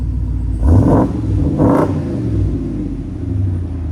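Deep rumbling exhaust of a 2020 RAM 2500 pickup with a 6.4L HEMI V8 and Vibrant bottle resonator, revved twice in loud close bursts over a steady burbling idle, with no talk.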